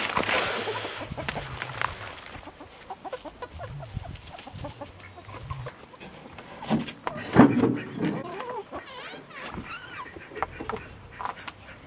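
Icelandic chicks and chickens in a coop, soft clucks and chirps scattered close by with a few louder squawks, a faint voice now and then underneath.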